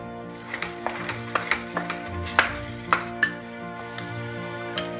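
Gajar ka halwa with milk powder being stirred in a pan as it cooks, soft irregular scraping and tapping strokes over a faint steady sizzle, close and fairly quiet.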